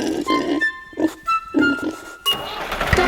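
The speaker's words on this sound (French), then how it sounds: "Il y a des centaines de cochons" A cartoonish pig oinks a few times as a sound effect within a French children's farm song, short grunting bursts set against sung melody and bright backing music.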